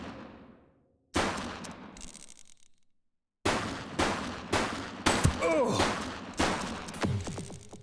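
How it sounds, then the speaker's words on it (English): Gunfire in the video game The Precinct, a string of sharp loud shots and short bursts separated by gaps, with ricochet-like whines and echoing tails, partly rapid and irregular. "She's shooting!"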